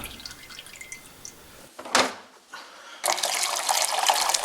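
Water splashing and dripping as a De'Longhi Magnifica S coffee machine is rinsed during descaling, a brief burst midway followed by a steady, fairly close hiss of running water filling a tank or vessel.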